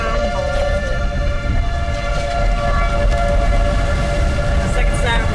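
A tornado siren wails steadily in Ness City, Kansas during a storm, a loud sustained tone that holds throughout with faint background noise.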